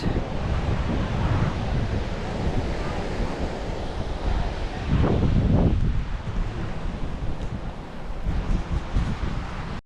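Ocean waves wash and roar in a steady rush, with a heavier surge swelling midway, and wind buffeting the microphone throughout.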